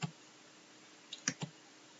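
A few sharp, quiet computer mouse clicks: one at the start, then a quick cluster of two or three clicks near the end, against near silence.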